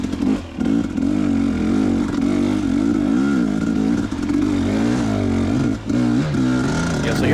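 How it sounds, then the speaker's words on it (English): A 250cc dirt bike engine lugs at low RPM out on an off-highway trail, a loud, close, continuous throb whose pitch wavers up and down with throttle changes across the whole stretch. "250 will run in those lower RPM ranges, even with my big old butt on it"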